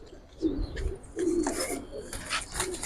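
A Giribaz pigeon with fully colored eyes coos in low, rolling bursts, two or three throaty phrases close by with faint rustling in between.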